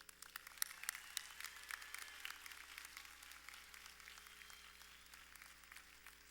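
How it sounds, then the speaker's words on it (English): Sustained applause from a large commencement audience at East Los Angeles College, honoring graduates; a broad, distant-sounding wash of many hands with a faint steady hum underneath, no speech. "let's give them a nice round of applause"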